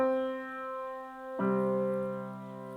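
On piano, a few sustained notes from a theme give way to a fuller left-hand chord struck midway, ringing alone and close with no talking.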